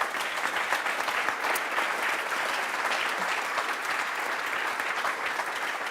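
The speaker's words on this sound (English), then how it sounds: "very warm round of applause?" Steady, full applause from a conference audience at a European hydrogen forum, honoring a panel, a dense continuous wash of many hands clapping at moderate distance for the whole stretch.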